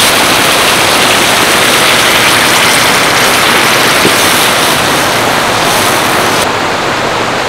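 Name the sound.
water poured into frying spiced masala for bitter gourd curry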